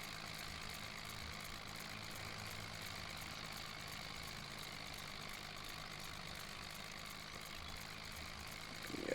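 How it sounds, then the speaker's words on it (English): A tractor engine in Farming Simulator 25 drones at a steady idle, a low, even rumble with a constant mechanical whine, faint and unchanging until a slight swell at the very end. "This tractor is kind of slow"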